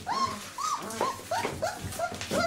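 A puppy under four weeks old whimpers and yips in a run of short, rising high-pitched cries, about six close, clear calls spread evenly with brief gaps between them.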